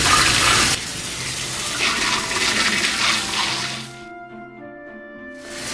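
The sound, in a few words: pouring water into new clay pot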